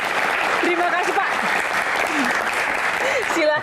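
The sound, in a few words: audience applause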